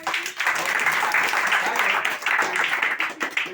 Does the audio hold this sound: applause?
yes